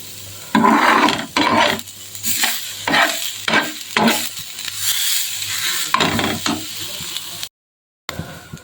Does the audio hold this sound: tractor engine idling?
no